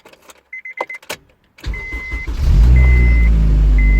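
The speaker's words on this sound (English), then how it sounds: "Let's go ahead and fire up the Insight." A Honda Insight with a swapped K20 engine is started: a few clicks and chimes, then the starter cranks briefly and the engine catches, settling into a loud, steady idle with repeated dash beeps.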